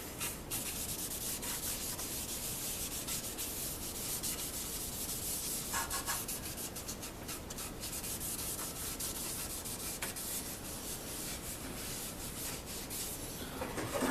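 Stain being rubbed by hand into a sanded flame-top basswood guitar body, a steady close scrubbing and rubbing sound continuing throughout with no talk.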